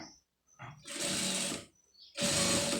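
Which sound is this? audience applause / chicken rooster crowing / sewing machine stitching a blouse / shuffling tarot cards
sewing machine stitching a blouse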